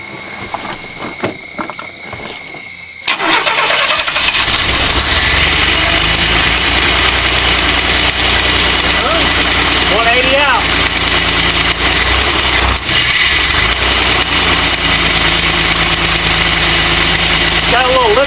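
An old barn-find van engine catches after faint clatter and then idles loudly and steadily up close, with a light lifter tick running through the rumble and occasional voices partly buried underneath.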